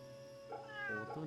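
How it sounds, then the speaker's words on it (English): A cat in the game Fate Samurai Remnant gives a single soft, rising meow up close, set against a low steady background hum from the game. "Nope, that's a cat."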